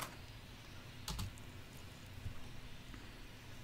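Computer keyboard typing during Resident Evil 2 Remake, a few scattered faint clicks and taps over a quiet hum, with a brief cluster of keystrokes midway.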